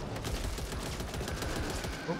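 Rapid gunfire in the zombie shooter video game Back 4 Blood, a steady stream of quick shots filling the whole stretch, moderately loud with speech faintly mixed in.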